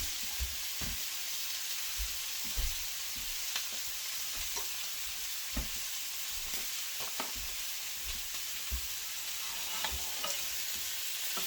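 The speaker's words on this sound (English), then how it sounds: "let me get these onions in the pot with the greens, with the meat. Get those cooked down, the onions and peppers" Onions and peppers frying in a pot with greens and meat for Guyanese cook-up rice, a low continuous sizzle broken by regular spoon clicks and scrapes as the mix is stirred.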